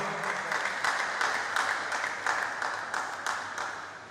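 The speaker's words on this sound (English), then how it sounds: "let's give Mr. Omotosho a round of applause" A seminar audience at an annual general meeting claps for a panelist in a continuous round of applause, with individual louder claps standing out at a regular pulse before it eases slightly at the end.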